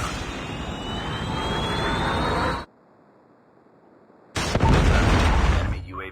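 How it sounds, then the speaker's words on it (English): A Predator missile strike in a shooter video game: a loud roaring, jet-like rush cuts to near silence for under two seconds, then a heavy, booming blast takes over. "Friendly Predator missile inbound."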